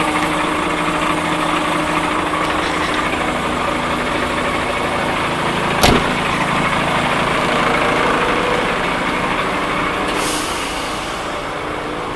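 A truck's diesel engine idles steadily with a constant low rumble, close by, while a brief sharp click cuts through midway and a hiss of leaking air rises near the end; no one speaks.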